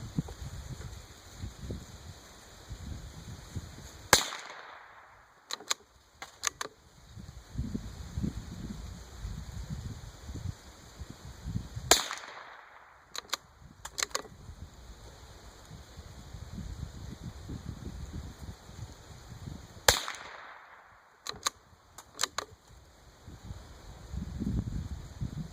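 A Savage MK II FV rifle fires Mini Mag rounds in three sharp, isolated shots spaced about eight seconds apart. Each crack is followed by a brief echo, over a soft outdoor wind and rustle.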